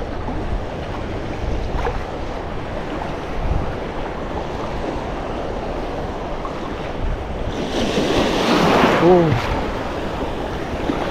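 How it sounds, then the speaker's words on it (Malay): Ocean waves wash steadily along a coastline where a fishing net is hauled from a boat, a broad rushing surf with wind buffeting the microphone, swelling louder toward the end. "Berombak-ombak."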